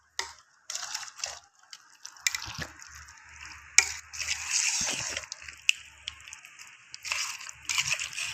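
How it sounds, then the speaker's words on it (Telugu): Amla pickle with chili powder and oil being stirred by hand, giving soft wet squelches and scraping clicks in an irregular rhythm, close up and fairly quiet, with no talk. "ఆయిల్ వేసి కూడా ఒకసారి ఉసిరికాయలు కారం అంతా కలిసేటట్టు"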